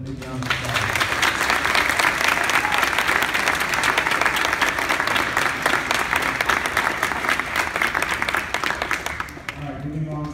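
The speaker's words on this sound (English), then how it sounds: "Let's give them a big round of applause." Sustained applause from a school-event audience at a 4th and 5th grade academic achievement awards ceremony, dense and steady for about nine seconds before tapering off.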